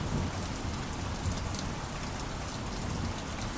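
Heavy rain pours steadily and loudly on surfaces, a dense continuous hiss with a low rumbling undertone and no voices.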